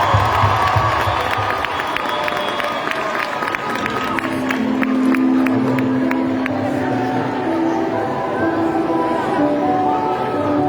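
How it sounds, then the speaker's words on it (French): A live audience at an eloquence event claps and cheers in a loud, busy crowd roar with shouts and voices mixed in, sustained throughout. "On peut t'applaudir."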